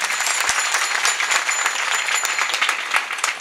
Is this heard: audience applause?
yes